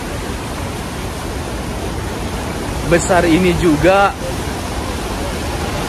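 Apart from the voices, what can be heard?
roar of Niagara waterfall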